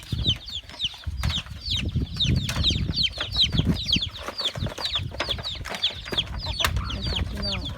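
A flock of free-range village chickens clucks constantly and overlapping, close by, with wing flaps and scratching mixed into a busy, noisy farmyard scene at feeding time.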